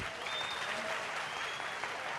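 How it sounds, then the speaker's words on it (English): Audience at a college launch ceremony claps in a sustained, even round of applause, moderately loud and unbroken, with faint background tones behind it. "Let's give a round of applause to that"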